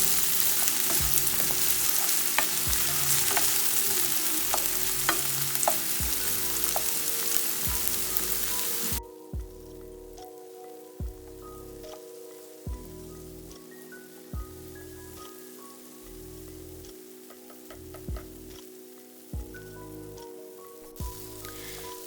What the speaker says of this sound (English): We're gonna go ahead and saute these for about 4 minutes